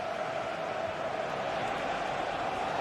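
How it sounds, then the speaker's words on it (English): Stadium crowd in a football video game, a continuous dense roar of massed voices at steady loudness with no distinct single sounds. "just listen to this crowd"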